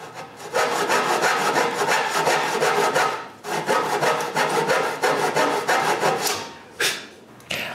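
Hand saw cutting angled ends on cedar boards for a patio table, steady back-and-forth strokes close by, a short pause near the middle before the rhythmic sawing resumes.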